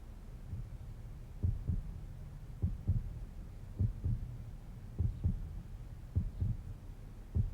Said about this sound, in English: Underneath the layers of the bandages, I could feel a heartbeat